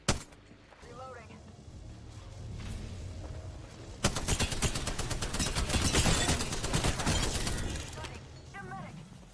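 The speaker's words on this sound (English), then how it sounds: "Opening fire." Continuous gunfire in a video game, a dense crackling fusillade that swells in the middle and stays steady for several seconds, with voices and game chatter faintly beneath it.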